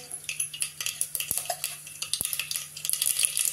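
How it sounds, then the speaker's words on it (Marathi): Mustard seeds crackle and pop in a tablespoon of hot oil over a low flame, a quick run of sharp, close little snaps with a couple of louder clicks, and no voices. "मोहरी तडतडली, आता जिरं घालूया।"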